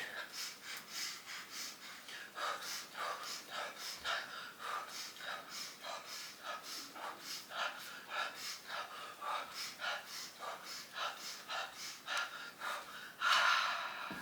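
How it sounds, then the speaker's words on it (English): Slow rhythmic deep breathing during a yoga session, about a dozen audible breath cycles, each drawn in through the nose and released out through the mouth, close and fairly soft with no talking. "Big breath in through your nose, and you're breathing out through your mouth."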